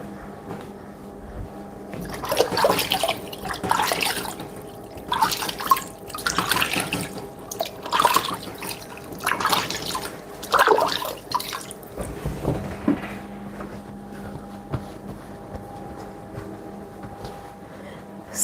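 Hands are washed under a running kitchen tap while making an apple pie dessert, with water splashing and rubbing close by in uneven bursts before the flow settles, and no one speaking.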